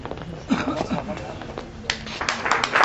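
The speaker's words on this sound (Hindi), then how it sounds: "जोरदार तालियां" Scattered clapping from the audience at a literary society's annual award and honour ceremony, sharp claps standing out over a busy room while voices talk through it.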